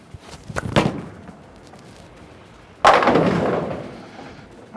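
A Columbia 300 Command bowling ball thuds onto a lane, and a few seconds later the pins crash in one loud, bright burst that rattles and fades. There is no talking.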